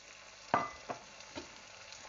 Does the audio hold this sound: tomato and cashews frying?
yes